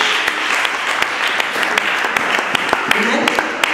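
A church congregation applauds energetically, dense continuous clapping with scattered cheers filling the space at close range.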